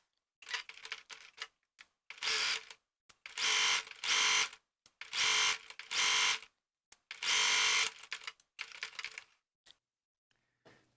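A sewing machine stitches a welt onto a garment's front piece in several bursts of steady, rapid mechanical whirring, each a second or so long, separated by short pauses and small clicks, close and clear.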